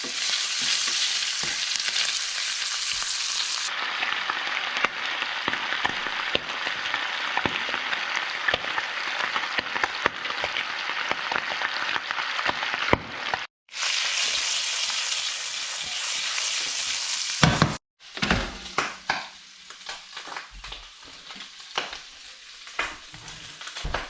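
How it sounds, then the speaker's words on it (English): Squid flash frying in butter and olive oil, a loud, steady sizzle with crackling pops that breaks off briefly twice before resuming, with no voices. "just flash fry it in some butter and olive oil"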